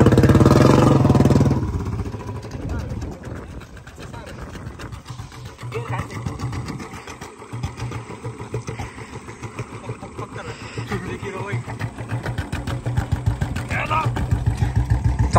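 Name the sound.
Bullet motorcycle engine running, stuck in a field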